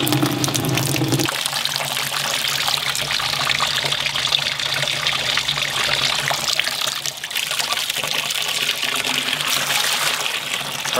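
Water poured from a container into a small mini pond stocked with pet-store goldfish, a steady continuous trickling splash running close and fairly loud throughout, with no talking.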